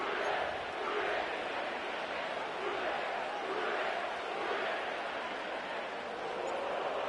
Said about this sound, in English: sellout crowd has arrived at Paycor Stadium in Cincinnati